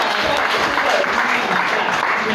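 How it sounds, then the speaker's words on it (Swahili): A church congregation at an AIC Kataloni Sunday service bursts into sustained applause, dense and close, with many hands clapping steadily for the whole stretch and no pause. "Tupige makofi."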